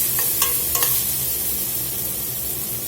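Chopped garlic and a little oregano frying in a pan for a steak pizzaiola, a steady low sizzle with a couple of brief spoon scrapes near the start.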